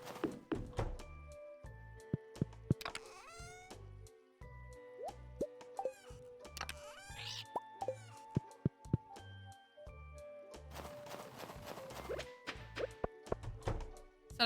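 Crops being watered with a watering can in a farming video game, with repeated soft plopping, splashing pours and little thunks in a busy rhythm over game music, no voices.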